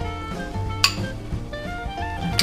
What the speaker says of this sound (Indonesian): aduk-aduk, ratakan